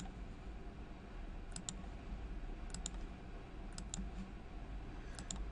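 Computer mouse double-clicks, four quick pairs of sharp, faint clicks spaced about a second apart over a quiet background hum, with no talking.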